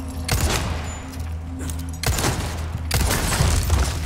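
Leon's gun fires in Resident Evil 4 during a castle battlements fight, loud broadband shots landing in three bursts roughly a second apart, each with a booming low tail and echoey decay.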